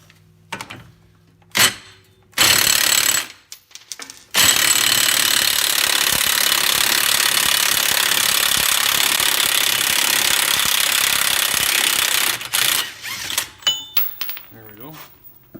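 An impact wrench buzzes off the 36 mm front axle nut of a Buick Regal GS during a wheel bearing replacement, with short bursts followed by a long, loud, sustained rattling run before tapering off.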